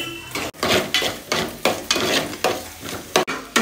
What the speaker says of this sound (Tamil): 4 முட்டையும் போட்டு நல்லா கிளற வேண்டியதான்